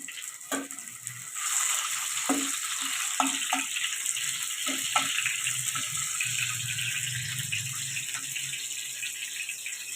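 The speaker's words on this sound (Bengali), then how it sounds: "ফাইন প্যানের মধ্যে আমি তেলটা দিয়ে দিয়েছি তেলটাও গরম হয়ে গেছে ওর মধ্যে দিয়ে দেবো গোটা জিরা আর দিয়ে দেবো টমাটো" Whole cumin seeds and tomato hitting hot oil in a frying pan, a steady close sizzle that swells after the first second and carries on with small clinks and stirring taps.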